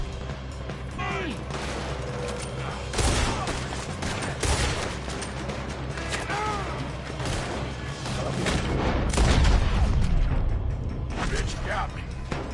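Dense gunfire from a PS4 video game, with repeated shots and booming bursts layered over a loud, busy mix, while a player talks over the action.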